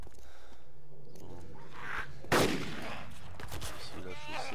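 A single sharp, loud gunshot in the PC survival game DayZ Epoch on the Chernarus map cracks out mid-clip against a quiet ambient backdrop, followed by a brief decaying tail.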